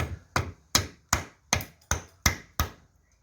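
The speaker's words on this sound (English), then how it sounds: "chiseling away. Can you see how hard this wood is?" A custom chisel knife is struck into hard wood in eight sharp, evenly spaced chopping knocks, each closely miked and quickly decaying, with no talking.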